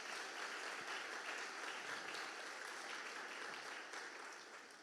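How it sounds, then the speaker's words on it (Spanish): A church congregation applauds loudly to glorify God, a dense, continuous wash of clapping that holds steady throughout and eases off slightly at the very end. "qué tal si le das un fuerte aplauso y glorificas su nombre?"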